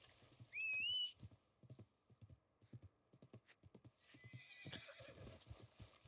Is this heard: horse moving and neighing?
yes